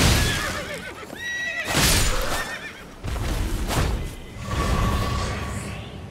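Horse in Elden Ring giving several loud, close whinnies with rising and falling pitch, mixed with thuds and rushing game sounds.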